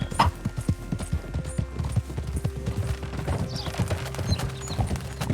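A horse's hooves clip-clop steadily in Red Dead Redemption 2, a continuous rhythmic walk of close, distinct hoof falls over a low outdoor ambience.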